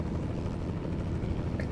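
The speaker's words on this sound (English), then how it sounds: "Got a helicopter on. Air ambulance." An air ambulance helicopter hovers over a massive road accident in Euro Truck Simulator 2, its rotor giving a steady, droning rumble that holds evenly throughout at a moderate distance, with no talking.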